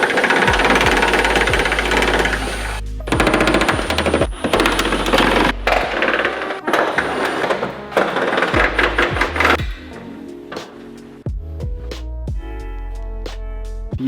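Impact wrench removing bolts from an Acura NSX quarter panel: loud, close bursts of rapid hammering separated by short pauses and metallic clinks, with quieter ratcheting and tapping toward the end.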